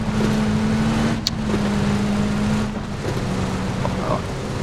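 A car engine in PUBG on the Miramar desert map drones steadily at close range, with a sustained low rumble and a faint hiss of wind, and no voices.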